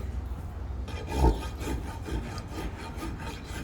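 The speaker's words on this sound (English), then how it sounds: "It's a rasp." A farrier's rasp files the hoof of a four-year-old white perlino Gypsy Vanner stallion, giving a steady, close scraping rub that repeats in short strokes with one louder stroke near the start.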